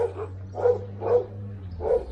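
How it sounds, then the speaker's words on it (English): Several dogs bark in short bursts at a seaside campsite on Portugal's west coast, four separate barks spaced about half a second apart, moderately close, over a steady low hum. "Quite a few noisy dogs here"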